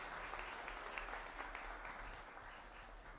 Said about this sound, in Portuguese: Uma salva de palmas para isso